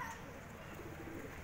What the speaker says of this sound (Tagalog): may ligaw na ibon na naman